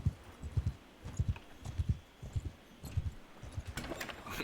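Horse hooves clip-clop at a steady trot in Mount and Blade 2 Bannerlord, close and rhythmic with evenly spaced doubled thuds, running on alone throughout.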